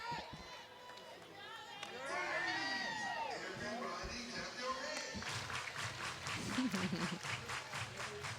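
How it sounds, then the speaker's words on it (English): A college softball crowd at a Texas A&M versus Florida game in the ballpark. A broadcaster talks at first, then a broad wash of distant cheering and shouting swells and holds to the end. "Here's the crowd, a little loud now."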